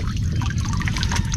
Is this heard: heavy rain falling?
yes